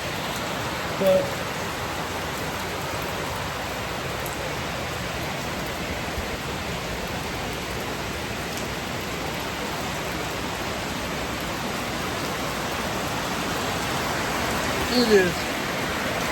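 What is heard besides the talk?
heavy rain pouring down in the Philippines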